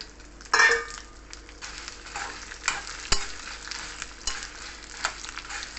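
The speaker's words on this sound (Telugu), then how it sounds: "ఇప్పుడు పోపు వేగిపోయింది కదా, ఎండుమిరపకాయ వేస్తున్నాను." Dried red chillies drop into hot tempering oil for a citron chutney, giving a sudden burst of sizzle, then a continuous crackling fry with scattered metallic clinks and stirring scrapes of a utensil on the pan, close by.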